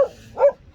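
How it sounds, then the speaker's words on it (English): A dog somewhere near a river rafting spot in Rishikesh gives two short, fairly faint barks in the background, quickly over, with no talking. "There's a dog in the background"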